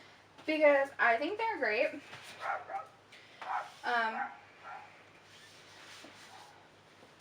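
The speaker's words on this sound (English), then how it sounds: "Sorry if you hear my dog barking." A pet dog barks a few times in a home, somewhat in the background and partly under a person talking close to the microphone.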